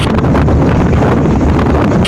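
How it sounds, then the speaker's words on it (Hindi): Strong cyclone-force wind from Cyclone Tauktae in Maharashtra, a loud continuous buffeting roar across the microphone with no pauses and no speech. "कई जगहों पर तेज हवा के साथ भारी बारिश हो रही है।"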